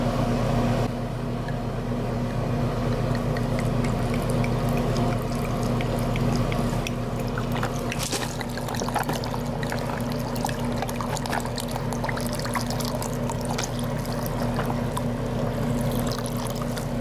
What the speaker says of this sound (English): I'm just going to add some water to this and mix it up.